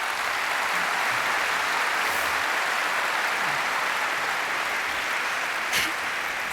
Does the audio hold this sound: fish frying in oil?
no